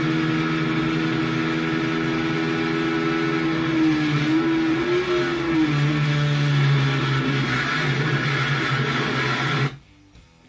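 A Honda XLX 250 motorcycle engine drones loudly, its pitch wavering up and down as it revs on a downshift, then cuts off abruptly at the end.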